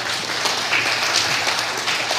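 A church congregation claps steadily in a room, a soft continuous wash of applause with no speech over it.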